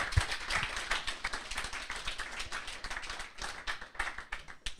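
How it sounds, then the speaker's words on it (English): A small group at a Tezos smart-contract workshop giving a round of applause, sparse, uneven individual claps with distinct hand strikes rather than a dense roar, fairly close. "we should really give him a round of applause"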